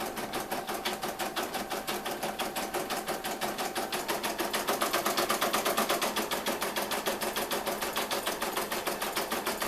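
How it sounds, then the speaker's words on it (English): A Brother embroidery machine stitches a name in a rapid, steady mechanical rattle, the needle pounding in an even rhythm that runs unbroken from start to finish. "This will probably take about 2 minutes to embroider the name Carter"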